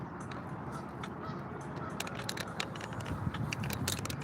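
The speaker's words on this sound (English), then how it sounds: "Look at the geese." Geese honk repeatedly outdoors, a run of overlapping calls at moderate distance over a steady background murmur.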